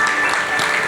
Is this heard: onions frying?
no